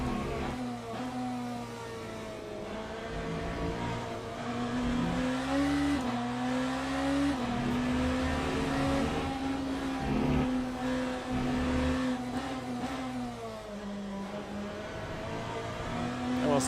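Porsche GT RSR racing car engines in the Le Mans Ultimate racing game, a steady loud droning roar that rises and falls through gear changes and revs, with brief tire squeals, continuous throughout.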